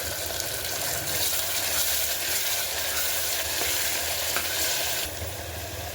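Tomato puree frying in hot oil for a black-eyed pea curry, a steady loud sizzle with stirring scrapes, close and continuous without talk.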